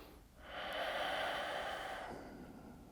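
One long, deep breath during a yoga session swells in through the nose and slowly fades, close and quiet, with nothing else around it.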